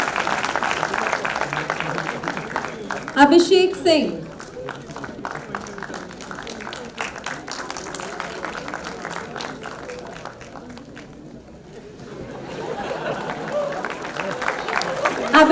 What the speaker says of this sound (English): so keep applauding the people